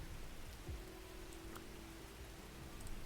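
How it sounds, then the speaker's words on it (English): Steady rain ambience in a cozy video game plays as a continuous, even hiss of falling rain with faint drops, with no talking over it. "Is it gonna make me turn off the rain?"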